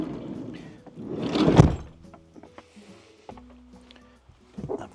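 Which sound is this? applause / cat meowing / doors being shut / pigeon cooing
doors being shut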